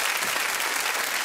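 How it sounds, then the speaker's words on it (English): A studio audience at a 1993 television game show applauds, a thick, continuous wash of clapping filling the whole moment. "Give them a big round of applause."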